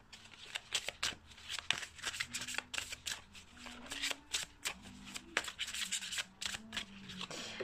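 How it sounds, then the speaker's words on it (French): Tarot cards are shuffled by hand in repeated quick riffles and soft slaps, a close, papery rustling rhythm running throughout with a faint low tone underneath. "Donc allez, on va mélanger les cartes."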